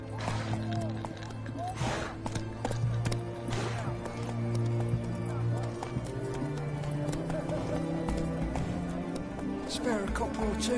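A horse gallops in The Witcher 3: Wild Hunt, steady clip-clopping hoofbeats running throughout, with a whinny and talk over a busy background of game music and ambience.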